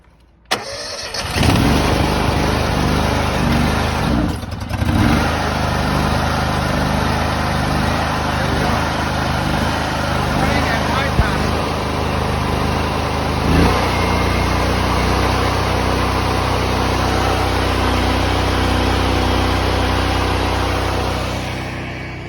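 A pump engine on a fire flow test is started and settles into a steady, loud, droning run at half throttle, continuous and close for over twenty seconds with no talking over it.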